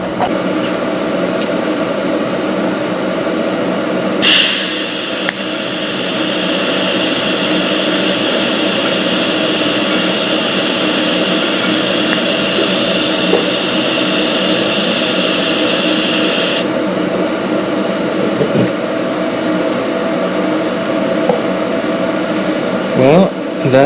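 TIG welding arc on chromoly steel with stainless filler rod and a red tungsten electrode, a steady, fairly loud hiss running about twelve seconds before stopping abruptly, over a constant background hum.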